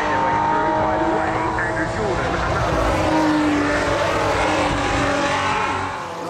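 Historic race cars roaring past at the Goodwood Revival, a loud sustained engine drone with shifting pitch as several cars pass close by, under steady commentary.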